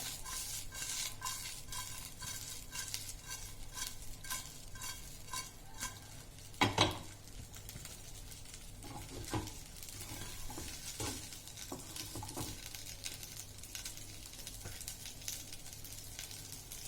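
Idli pieces stirred with chaat masala in a hot pan, a continuous sizzle with rhythmic scraping and tapping of a spatula against the pan and one louder clank, close and steady.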